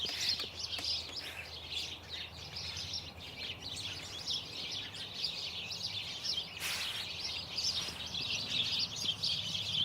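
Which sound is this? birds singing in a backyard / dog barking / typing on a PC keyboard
birds singing in a backyard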